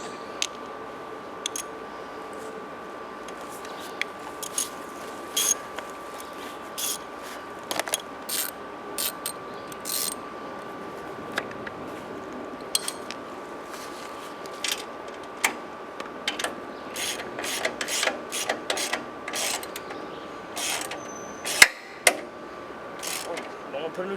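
A ratchet tightens bolts on a new machine in quick bursts of sharp clicks. They come in irregular clusters over a quiet background hum, with a few louder knocks near the end.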